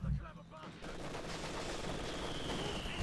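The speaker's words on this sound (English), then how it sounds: "Mortar rounds falling." Mortar rounds fall and burst in a Company of Heroes 2 battle, a dense, continuous rumble of explosions and gunfire that stays loud throughout, with a heavy thump at the very start.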